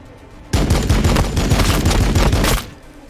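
Rapid, dense volleys of gunfire from a Warhammer 40k Battlesector battle, sustained loud bursts for about two seconds that cut off abruptly, with no talking.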